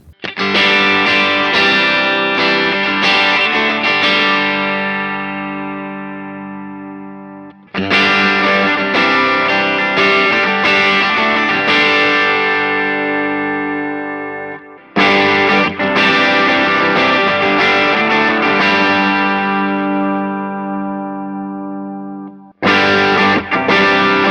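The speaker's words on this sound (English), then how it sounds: "You're going to hear the Strat and the Tele are really bright." Three sustained electric guitar chords on a Stratocaster, a Telecaster and a PRS, rung out one after another, each decaying slowly, the tone growing noticeably darker from one guitar to the next.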